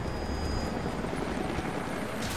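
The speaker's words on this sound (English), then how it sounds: "Jacob, helicopters are headed your way." A steady helicopter rotor drone from approaching helicopters in the video game Rise of the Tomb Raider fills the scene, loud and continuous, with no voices.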